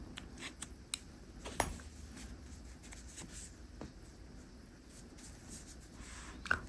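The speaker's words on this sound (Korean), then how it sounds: "나머지 실은 잘라주세요" Scissors snip through leftover crochet yarn while a crochet hook storage case is finished, a few quiet, sharp clicks spaced out over a soft, faint background.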